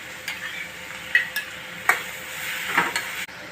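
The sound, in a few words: raw prawns frying with onions and turmeric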